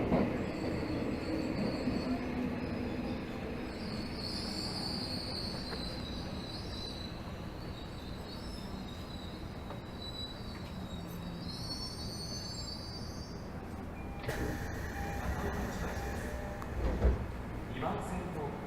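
A Tokyo Metro Hibiya Line 13000 series subway train runs with a steady rumble and high wheel squeal throughout, then the sound of braking or a change near the end; an automated announcement voice is faintly heard.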